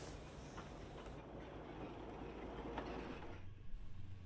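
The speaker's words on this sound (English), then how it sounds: "Here we rode their quirky little forest train" The quirky little Hotham Valley Railway forest train in Western Australia rolls past with a soft, distant rumble and faint rhythmic wheel clatter, quiet and steady throughout.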